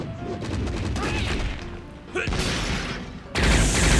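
Rapid impact hits and bursts from an Ultraman video game as a normal attack strikes a box twice to break it open, loud and dense throughout, with a sharper crash surging near the end.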